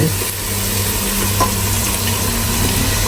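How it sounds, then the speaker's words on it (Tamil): Four beaten eggs fry in a pan and are stirred and scrambled, making a loud, constant sizzling hiss with faint scraping of the utensil underneath and no voices. "எடுத்து வச்சிருந்த முட்டையை ஃபுல்லாக ஊற்றியாச்சு நாலு முட்டையும்"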